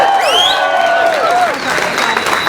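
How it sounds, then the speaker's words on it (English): An audience claps and cheers at a variety show, with whistles and crowd noise rising together over a brief stretch. "Can we clap it up for the Chop Shop for allowing us to be here?"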